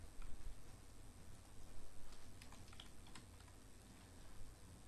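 Steady close typing on a computer keyboard while code is entered, with quick irregular key clicks over a low background hum.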